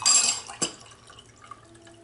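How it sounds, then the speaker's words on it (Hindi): Water pours briefly into a glass for a summer basil seed drink, a short splash followed by faint drips and clinks, close and quiet. "पानी डालूँगी"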